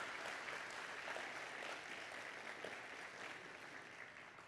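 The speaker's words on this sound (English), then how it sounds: "Let's give our judges a round of applause tonight." A full audience gives a steady round of applause for competition judges at a pitch contest, dense clapping holding throughout and easing slightly toward the end.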